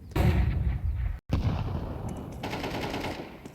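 A grenade goes off in a Counter-Strike professional esports match, heard as a loud, dense burst of explosive blasts and rapid gunfire, with a brief dropout before the rumbling chaos resumes.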